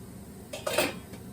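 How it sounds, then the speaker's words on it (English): Metal meat grinder parts handled during cleaning, a brief pair of faint clinks and a rattle against a quiet background. "Getting my grinder there cleaned up too, you all. I've got my grinder parts right in here."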